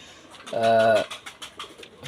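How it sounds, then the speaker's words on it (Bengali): A pigeon among mostly young pigeons gives one clear, drawn-out coo with a rich harmonic tone, then soft rustling and faint bird sounds continue close by. "এখানে যা আছে বেশিরভাগই বেবি কবুতর"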